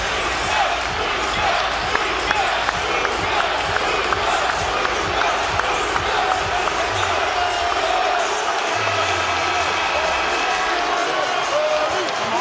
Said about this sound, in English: A standing O as their team is getting whooped